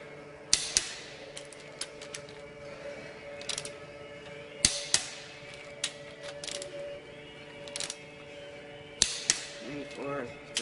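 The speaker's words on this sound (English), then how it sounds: "we're going to torque our head down" Torque wrench tightening the cylinder head bolts on a Cat 3406 engine in a workshop: a series of sharp metallic clicks and ratcheting bursts recurs irregularly at close range over a faint steady hum, with no talk.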